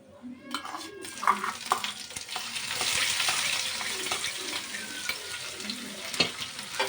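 Onions hit hot oil with whole spices for prawn biryani, crackling and sizzling steadily in the pan while a spoon stirs and scrapes now and then, with no talk over it.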